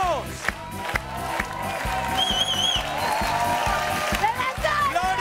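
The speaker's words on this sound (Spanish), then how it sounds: "¡Fuerte el aplauso!" Studio audience on a live Spanish comedy show applauding and cheering, with clapping, whoops and crowd noise under bright musical accents and a steady rhythmic beat, filling the whole stretch.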